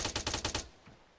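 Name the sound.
gunfire in the video game ArmA 3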